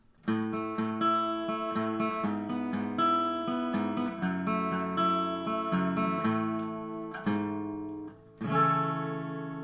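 An acoustic guitar strums the outro of a song in a steady rhythm, closing with a few final strums and a ringing last chord.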